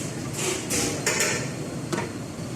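A spoon scrapes and knocks against a pot while stirring Malabar-style chicken kuruma curry with a freshly ground paste just added, giving a few irregular metallic strokes over a steady background hiss.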